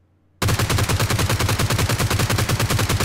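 A G36c assault rifle in the mobile shooter PUBG Mobile fires a rapid, steady full-auto stream of loud, close shots after a brief silence, with no talking.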